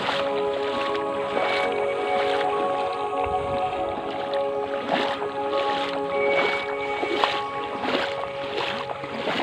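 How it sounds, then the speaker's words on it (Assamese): A rowing boat moves across a river on an outing to look for dolphins and gharials, with steady, gentle swishes of oar and water splashing repeatedly over a continuous ambient background. "এয়া নাও উঠিব লাগিব এতিয়া"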